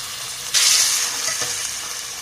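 Yogurt frying and being stirred in a pot while pulao is cooked, a steady loud sizzle that flares sharply as it is worked, close up, with no talking.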